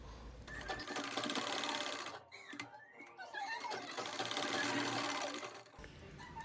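A sewing machine stitching dori tassels (latkans), running loud and close in a fast, steady rattle, pausing briefly midway and then whirring on again before stopping.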